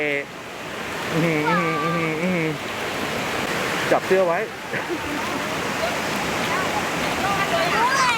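A waterfall at Koh Yuan in Nakhon Sawan, near a pond full of koi, rushes in a steady broad wash while voices talk and exclaim close by over it.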